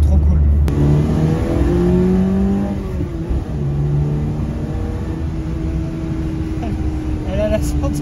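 A 1979 Peugeot 104 ZS2 engine revs hard and accelerates while driving, loud and close, its rising and falling tone continuous throughout, with a voice talking over it.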